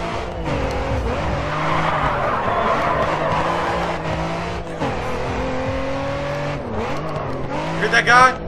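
A car drifting in the racing game GRID 2, with a sustained engine drone and long tire squeal throughout, shifting in pitch as it slides, loud and continuous.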